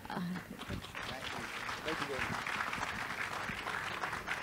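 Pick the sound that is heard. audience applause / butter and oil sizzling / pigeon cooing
audience applause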